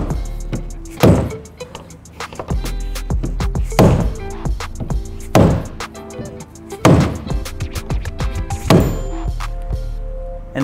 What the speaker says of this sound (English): we'll hit the ring clockwise